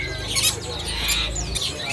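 Caged songbirds, including cucak ijo, chirp in quick bright bursts over a steady low hum at a bird kiosk, several short tweets close by.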